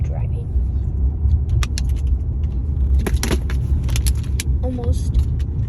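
Car driving on a road, a steady low road rumble running throughout with light rattles and clinks from inside the cabin and a voice speaking over it.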